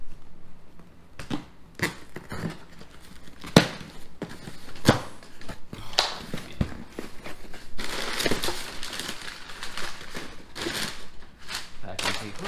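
Packing paper crumpled and rustled while unboxing a parcel, heard as close, irregular crinkly bursts with sharp crackles, busiest toward the end.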